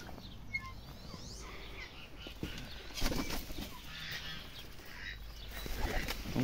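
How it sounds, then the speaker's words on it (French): Pigeons moving around inside a loft, including blue barred strassers, with wing flaps, shuffling and scattered soft coos over a steady low background, growing busier toward the end. "Là on va aller voir les pigeons."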